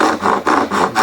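A hand saw cuts through wood in a toolbox build, making steady back-and-forth rasping strokes, about four loud close strokes with brief gaps between them and no talking.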